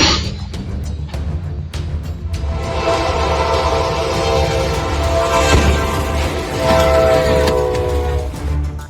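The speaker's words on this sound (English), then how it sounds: "A train cannot steer around an obstacle, and it cannot stop immediately." A loud, steady rumble of a train going by, with a long sustained horn blast sounding over the rolling noise throughout.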